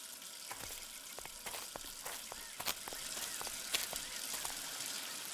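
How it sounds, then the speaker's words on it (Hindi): Water sprays and gushes from a burst water pipe, a faint, continuous hissing rush with scattered splashing crackles, heard at low level with no voices over it. "यहाँ पे पानी की पाइप फटी हुई है।"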